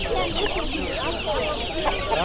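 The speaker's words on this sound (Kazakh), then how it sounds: "Балапандар." Chicks and chickens cluck and cheep busily at a livestock market, several birds calling close by in a dense overlapping chatter.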